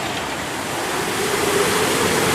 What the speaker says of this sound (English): It's just a little bit of splash to the face.